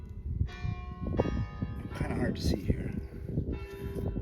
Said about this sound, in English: Perfect time with the church bell ringing